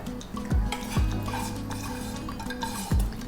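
Fried prawns are tipped into a pan and stirred, with a spoon scraping and knocking against the metal a few times over a low, steady background, and no voices.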